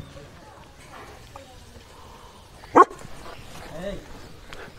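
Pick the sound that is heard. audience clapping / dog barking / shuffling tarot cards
dog barking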